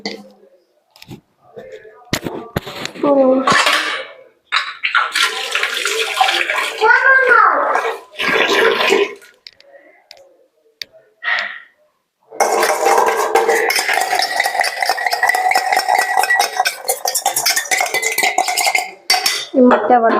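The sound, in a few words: mixing chitranna rice in a bowl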